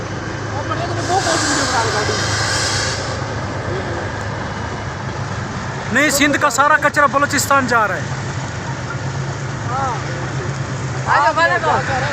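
A passenger train from Punjab to Quetta, pulled by two locomotives up the Bolan Pass climb, gives a steady rumbling, hissing drone. People talk over it close by.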